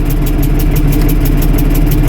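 A 1978 International Harvester 1586 tractor engine runs on a cold start, a loud, close, steady diesel chug with an even rhythmic knock and no voices.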